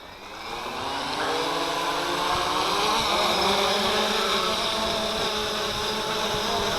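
The motors of an XK Detect X380 drone spin up for automatic takeoff, rising into a steady, close buzzing whine that holds loud and even throughout, with no talk.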